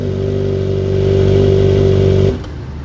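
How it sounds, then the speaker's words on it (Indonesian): Kawasaki ZX-25R ABS motorcycle fitted with a short underbelly Leovince exhaust, revving in a loud, steady high-pitched drone that holds close and strong for over two seconds, then cuts off abruptly to near silence. "suara dari Kawasaki ZX25R ABS yang udah ganti knalpot dari brand Leofins, modelnya yang underbelly ya, dengan silencernya yang pendek ya"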